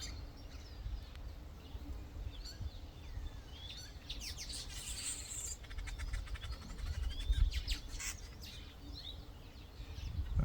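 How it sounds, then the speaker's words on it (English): Birds sing and chirp through a garden on a quiet morning, several calls overlapping at moderate distance, with faint background hum beneath. "I don't know if you can hear all the birds in the background."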